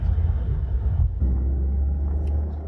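Car cruising in sixth gear on a highway in Hungary, a steady low engine rumble and road drone, close and continuous with a brief dip midway and no talk.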